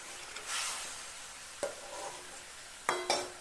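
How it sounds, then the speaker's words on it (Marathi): River fish curry gently stirred in a pan, a quiet scraping swirl over faint sizzling, with a few sharp clinks of the spoon against the pan rim. "एकदम हलक्या हाताने हलवायला लागणार"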